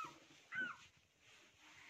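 A small puppy gives a short, faint whimper, a brief high whine near the middle of a quiet, low-level background.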